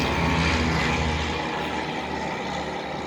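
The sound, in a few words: two planes flying over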